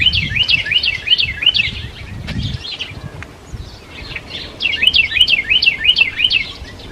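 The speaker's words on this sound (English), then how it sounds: "Sounds like the birds are going to get in on this little video too" Small birds sing in a spring garden, repeated bright trilling phrases in two bursts separated by a short pause, with low rustling and handling noise underneath.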